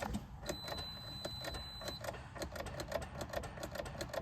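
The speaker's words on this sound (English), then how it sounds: "new starter is in. Let's see if we can't get some crank" Starter cranking the engine of a Mitsubishi Evo 9 after a new starter install, a fast, even mechanical whirring chatter with regular ticks, close and fairly loud, with no talk.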